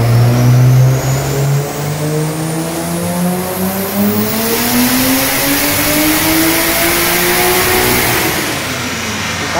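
A BMW E90 320 fitted with a swapped-in Toyota 2JZ engine revs loudly and close, its roar climbing and falling in pitch through sustained pulls, with a faint tire squeal.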